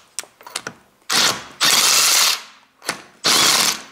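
Ratchet wrench working on a rounded wheel bolt of a car or SUV: a few quick clicks, then several loud, sustained bursts of ratcheting as the tool slips on the damaged bolt, close and alone.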